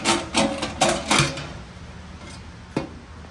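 A wrench clicks out 10 mm bolts from a side panel on a Toyota Prius C, a quick series of ratcheting taps close by, then a single sharp clack after a brief pause.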